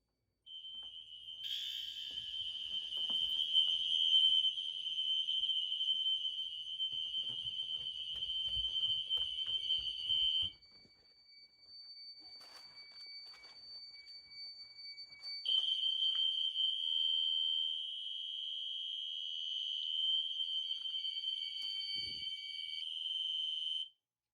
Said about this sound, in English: This is the loudest system test I have ever done.